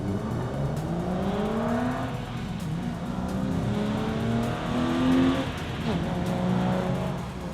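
A BMW E36 325i drift car with Turner shorty headers, stock mid pipe and Scorpion axle-back exhaust revs steadily and rises and falls in pitch, with faint tire squeal during a continuous drifting run.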